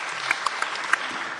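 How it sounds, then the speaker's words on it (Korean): Applause for pastors in a church gathering: a steady patter of many hands clapping, moderately loud and even, with a few sharper claps standing out. "힘찬 격려의 박수를 부탁드립니다"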